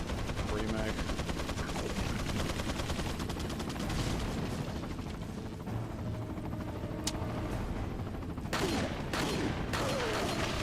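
Rapid, dense gunfire in Resident Evil 4 on GameCube, loud, close and nearly continuous, with sharp metallic clicks and a few separate bursts near the end, and speech faintly mixed beneath it.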